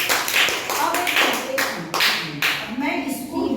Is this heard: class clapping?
yes